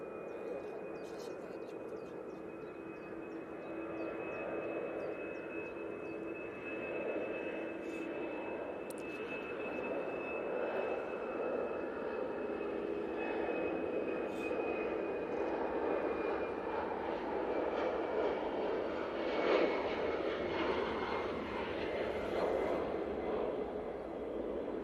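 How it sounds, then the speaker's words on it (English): Airbus A319 airliner at Manchester Airport, a steady, fairly distant jet engine roar with a thin whine, holding broadly even throughout with no talk. "A319 being used for this flight back to Brussels."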